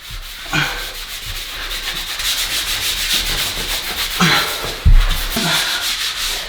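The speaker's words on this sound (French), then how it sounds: "quand ça commence à sécher, comme là-haut, ben je prends une éponge sèche et je frotte" A dry sponge rubbing drying grout off floor tiles laid over electric underfloor heating: continuous close scrubbing with a few sharper scuffs and knocks, no voices.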